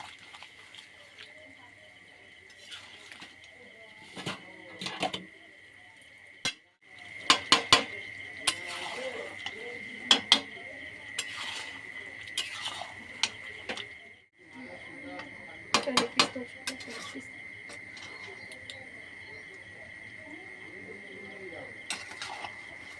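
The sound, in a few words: stirring spicy meat curry for biryani in a pot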